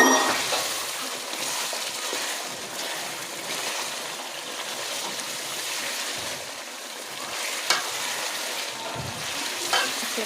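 Dry coriander, black pepper and cumin stirred into chicken kadai, a steady sizzle and fry with soft scraping of the spoon running continuously, close and fairly loud, with no talking.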